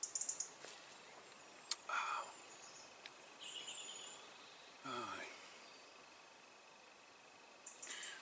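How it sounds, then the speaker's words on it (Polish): Birds singing in a forest, faint and distant: a few scattered high chirps and short calls spaced apart over quiet background, with no talking. "piękniutko ptaszki śpiewają"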